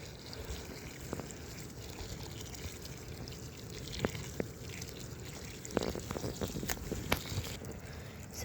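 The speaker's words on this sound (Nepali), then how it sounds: "यसरी पानी हाल्छु म चाहिँ।" Water splashes and trickles onto newly planted tomato seedlings in a raised garden bed, faint and uneven, with scattered drips and soft splashes over light outdoor wind noise.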